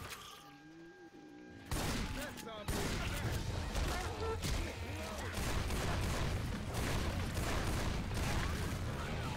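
Mounted machine gun fire in the zombie shooter Left 4 Dead 2 runs in a long, dense, continuous stream with crashing impacts mixed in. Voices talk over it now and then.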